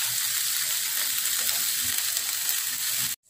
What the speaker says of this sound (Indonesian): untuk tempe lainnya yang belum dipanggang, tetap kita panggang